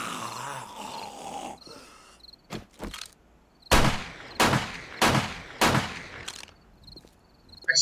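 Gunfire in the zombie survival game 7 Days to Die, a series of about seven sharp loud shots spaced irregularly, each with a short decaying tail, over quiet chirping insect ambience.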